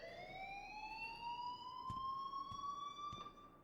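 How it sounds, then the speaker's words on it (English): Fire alarm in Life is Strange, a steady rising electronic siren tone with strong harmonics that sweeps upward and holds, with a few soft thumps under it, fairly quiet in the mix. "please turn off that alarm since that's your job"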